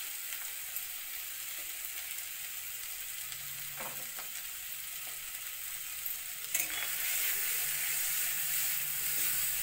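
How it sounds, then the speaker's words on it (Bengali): Garlic paste, salt and chili powder fry in a pan with a soft, continuous sizzle and occasional scraping stirs, growing louder and brighter in the last few seconds. "তারপর ভালো করে নাড়াচাড়া করে একটু ভাজা ভাজা কড়কড়া করে করতে লাগবে, এটা যাতে কাঁচা না থাকে।"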